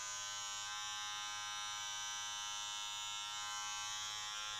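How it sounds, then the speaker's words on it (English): An electric hair clipper buzzes in a steady, unbroken hum as it cuts a man's hair, running straight up the side of the head during a self-haircut, close and alone. "I can feel the clipper gliding over it"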